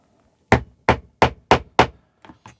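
Chisel struck by a hammer through veg tan leather, five loud sharp blows in a steady rhythm followed by two softer lighter taps, close by with no talk.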